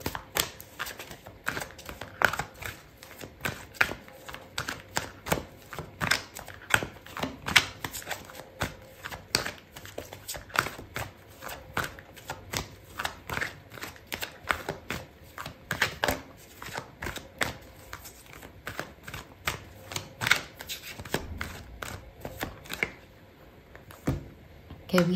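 Tarot cards being shuffled and laid out during a Taurus love reading, a steady run of close, crisp card flicks and slaps with a voice talking quietly in places.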